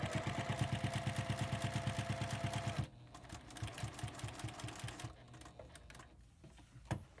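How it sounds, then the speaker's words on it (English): A sewing machine stitches binding onto a quilt with mitered corners: a fast, even run of clattering needle strokes, then a slower, uneven stop-start patter of stitches with small knocks, close and fairly quiet. "I'm just going to hold it with my finger and sew until my needle hits this corner"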